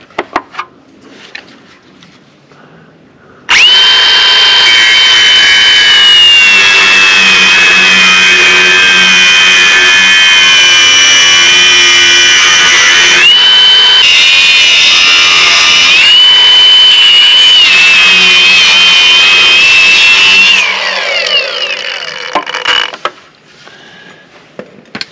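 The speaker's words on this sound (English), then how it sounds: "I was going to start out cutting the outside weld" A power tool cuts through the outside weld on a trailer's bent angle iron under the floor, giving a loud, sustained high-pitched whine that holds for about seventeen seconds with slight pitch wobbles, then winds down.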